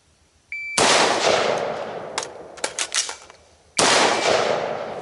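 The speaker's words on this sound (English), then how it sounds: "fire one shot, emergency reload, fire one shot" A rifle with a 13.7-inch barrel fires two loud, sharp shots about three seconds apart. Between them comes a quick metallic clatter of an emergency magazine reload.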